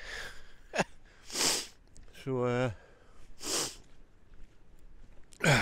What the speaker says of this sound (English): sorry for the sniffing, but it's getting a bit cold now